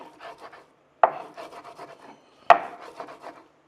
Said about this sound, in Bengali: আমরা এরকম করে কেটে কেটে কুচি কুচি করবো, যাতে ভিতরে ময় মশলা ঢুকে